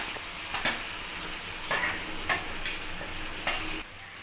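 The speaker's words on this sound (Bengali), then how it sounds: "আমি মাংসটা কড়াইতে দিয়ে দিলাম ম্যাগিনেট করা" Marinated mutton fries with spices in a kadai, a steady sizzle broken by several loud scraping stirs of the spatula against the pan.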